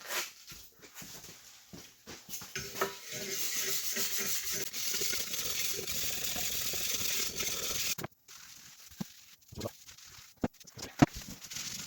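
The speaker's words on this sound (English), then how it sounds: "Let me grab a wire brush." A wire brush scrubs rust off the badly rusted surface of a jointer with continuous, gritty rasping strokes nearby, then gives way to a few scattered knocks and scrapes.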